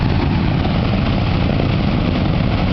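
A B-17 bomber flying toward the onlookers, its propeller engines producing a steady, loud, roaring drone that fills the scene without letting up.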